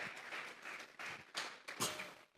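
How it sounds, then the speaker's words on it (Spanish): A church congregation claps together as an offering of applause, a dense patter of many hands in uneven surges, moderately distant in the room. "Vamos a regalarle ofrenda de palmas al Dios de la gloria"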